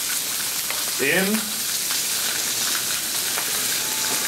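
Salt pork frying on a Blackstone griddle top, a steady bright sizzle and crackle running throughout, with a voice briefly talking over it.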